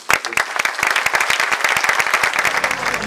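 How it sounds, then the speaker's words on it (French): Applause at a gypsy music concert: dense crowd clapping with sharp individual claps standing out near the start, continuing steadily throughout. "je crois que ça mérite un grand applaudissement"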